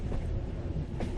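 Inside a moving commuter train, a constant rumbling roar fills the car, with clickety-clack beats from the rails bursting out near the end.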